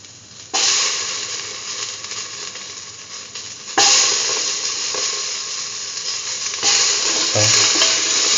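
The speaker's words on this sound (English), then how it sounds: "Now put in the tomato pieces." Tomato pieces land in a hot pan of curried beetroot and mung bean stew and set off a loud, steady sizzle that jumps in intensity several times as more food goes in and is stirred.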